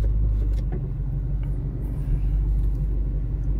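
A 2010 Chevrolet Camaro SS rolls along with a low, steady engine rumble and road drone heard from inside the cabin, fairly subdued with faint rattles.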